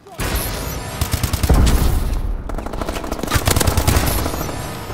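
AK rifle fired in Call of Duty: Advanced Warfare multiplayer, loud rapid automatic bursts in steady rhythm with a brief pause midway, booming and continuous under the game's ambience.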